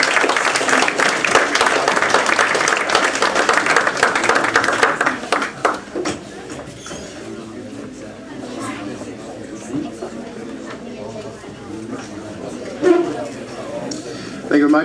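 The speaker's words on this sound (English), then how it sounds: "One more round of applause for Patterson Willis and his crew." An audience applauding after a fiction and drama reading at a literary reading series, a loud burst of many hands that fades within a few seconds, followed by murmured chatter and a speaker talking.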